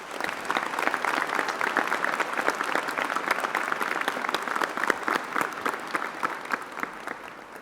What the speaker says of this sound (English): Could you please join me in a round of applause for these outstanding musicians?